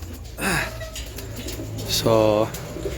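A racing pigeon hen coos in a loft, two short throaty bursts close to the microphone over a low background hum.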